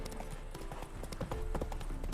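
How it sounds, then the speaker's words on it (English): Horse hooves clip-clop steadily in The Witcher 3, a regular walking rhythm of several close, moderately loud hoof strikes over a dense background of game ambience. "Spooking my horse."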